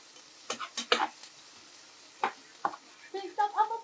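Laing in coconut milk is stirred in a pot, giving soft, scattered scrapes and clinks of a spoon against the pot in short bursts, faint and close, with a quiet sizzle underneath.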